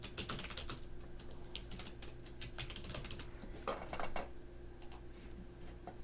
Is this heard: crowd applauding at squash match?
no